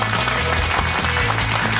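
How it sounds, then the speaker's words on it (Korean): A studio audience at a Korean talk show applauds in a dense, steady burst of clapping that fills the whole moment at close range. "박수 주십시오"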